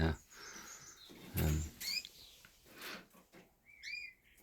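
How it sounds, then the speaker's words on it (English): Raza canaries chirp in short, bright bursts, a couple of quick phrases near the end, fairly faint against low room noise with a voice briefly present. "the Razas sing so well that I used to call them Razas little rollers"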